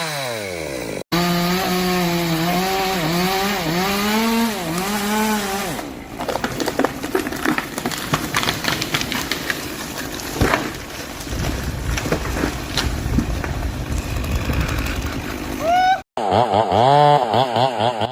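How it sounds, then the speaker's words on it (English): A chainsaw runs loudly and steadily with a rising and falling whine, then grinds through a log with a rough, buzzing cut; the engine revs up again at the end. "The chainsaw roars to life, echoing through the forest."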